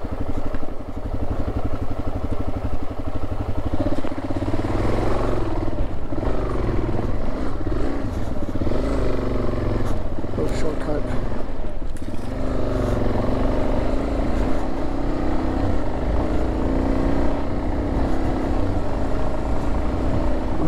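A motorcycle climbing a steep off-road section of the Transamerica Trail, its engine droning loud and close without pause, rising and falling with throttle over rough ground.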